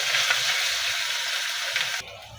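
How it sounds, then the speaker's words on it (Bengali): Ginger, garlic and onions with spices frying in a pan, a loud continuous sizzle close by that drops suddenly near the end. "নেড়ে চেড়ে মিশিয়ে ভেজে নিচ্ছি আদা রসুনগুলো পেঁয়াজের সাথে।"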